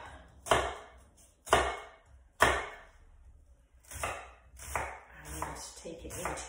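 A knife chops through a halved onion on a board for lentil and vegetable soup: three sharp, evenly spaced chops, then a quicker run of softer cuts, close and clear with no talk.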